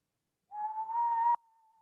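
One person whistles a single sustained note of just under a second, close and clear, which cuts off sharply and leaves a faint lingering tone.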